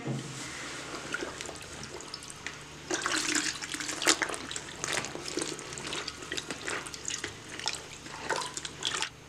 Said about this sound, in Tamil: இப்போ இதை தண்ணியில் நினைக்கிறேன்